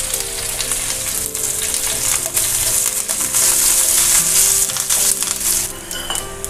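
Onion, dried red chili and curry leaves fry in hot oil for a chutney tempering, a loud, continuous close-up sizzle with occasional stirring scrapes and clinks against the pan.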